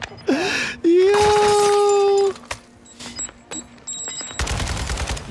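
An RPK light machine gun in a first-person shooter fires a dense automatic burst at the end, after loud wailing and whistling game effects, with no talking.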